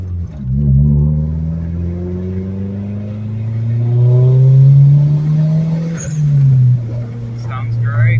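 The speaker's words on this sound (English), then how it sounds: "The idle sounds so good when it's up to temperature." Mazda with a boosted engine and a repaired exhaust leak, a loud close rumbling engine that rises in pitch as it revs, drops, then settles back to a low steady idle.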